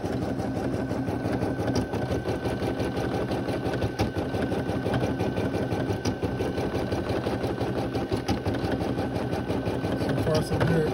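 A Brother PE 800 embroidery machine stitches with black thread, a rapid, steady mechanical chatter that carries on without pause. The machine has been breaking needles and ripping shirts.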